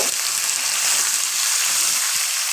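Beef pieces fry in a pan of oil with bay leaves and onion, giving a steady, close, even hiss of sizzling fat with faint crackles underneath.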